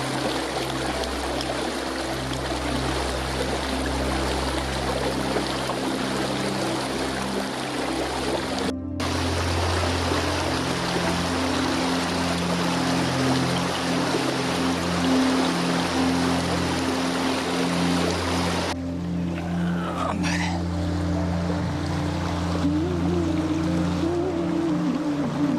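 A mountain river near Galla village in Nainital, Uttarakhand, said to spring from Shiv Mukteshwar, rushes loud and continuous with a deep underlying rumble throughout, close and unbroken, with no voices over it.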